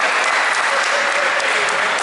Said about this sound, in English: He said, you please clap.